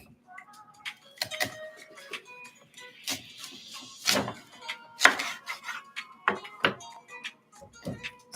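A knife chops an onion on a board for pico de gallo, making a string of close, irregular thunks with short pauses between cuts, and a voice faintly in the background.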